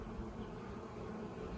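Honey bees drone in a steady, continuous buzz around hive frames during a nuc install into a long hive, a dense low hum with no talking.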